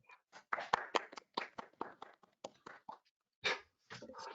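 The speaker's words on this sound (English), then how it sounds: "Lots of clapping." Applause at a Monmouth city council meeting, a sparse, uneven patter of claps from a small group, fairly quiet and broken by short gaps.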